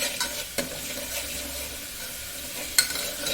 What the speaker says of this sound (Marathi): मग तो चांगला फिरून घ्यायचा म्हणजे त्याचं कच्चं पण जाते